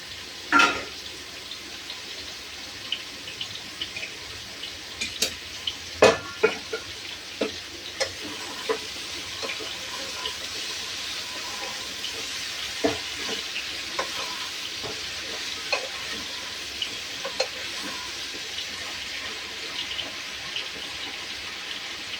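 Leafy greens sizzle steadily in a hot pan for a home-cooked Bengali dish, while a utensil stirs them with scattered clicks and scrapes against the metal. No one speaks.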